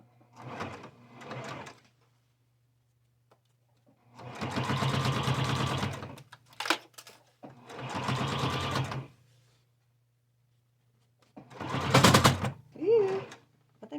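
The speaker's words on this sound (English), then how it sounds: "I'm just going to run this through my machine and give it a nice little hem on both sides." A sewing machine hems the edge of a pillow sham in several loud, close stitching bursts separated by quiet pauses. A brief murmur of voice comes near the end.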